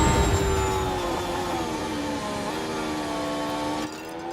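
Racing car engines in the F1 Manager 24 game at the Baku street circuit, a loud continuous layered whine with overlapping tones, the steady idle note running alongside the racing engine's shifting pitch, dropping slightly near the end.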